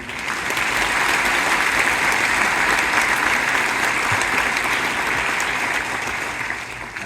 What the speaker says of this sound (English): So give yourselves a round of applause to start off with, will we?